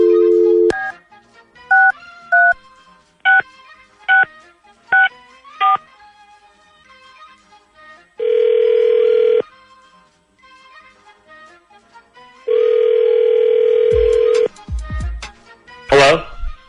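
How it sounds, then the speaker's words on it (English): A telephone being dialed for a radio show call, a series of short touch-tone beeps followed by two long ringback tones with quiet gaps between, then a brief burst of noise as the line connects. "Let's call him up right now."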